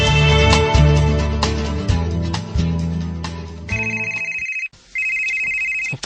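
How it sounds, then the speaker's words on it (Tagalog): A telephone rings for an incoming call, loud repeated electronic ringtone bursts over music at first, then a sustained high tone that cuts out briefly and resumes, with no talking. "nanawag man din si Bay Gerson"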